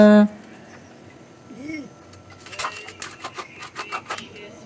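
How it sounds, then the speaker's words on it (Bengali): Onions being chopped rapidly with a knife on a cutting board, sped up, giving a fast run of sharp, crisp taps that build after a brief opening sound and continue close and loud to the end. "পেঁয়াজ কাটা হচ্ছে। খুব স্পিডে কাটছি"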